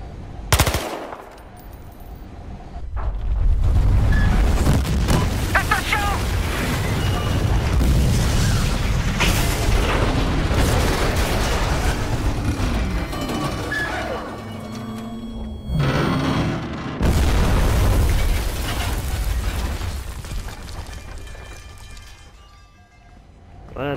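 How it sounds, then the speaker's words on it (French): A gas tower in Battlefield Hardline blows apart with heavy booming explosions and rumbling debris, preceded by bursts of gunfire, loud and close, with brief lulls between blasts. "Et la tour elle va exploser."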